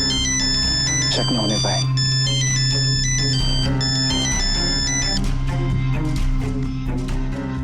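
A mobile phone ringtone plays continuously as a repeating electronic melody, with a voice speaking briefly over it.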